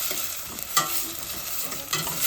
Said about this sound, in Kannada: ಚೆನ್ನಾಗಿ ಫ್ರೈ ಆಗ್ತಾ ಇದೆ.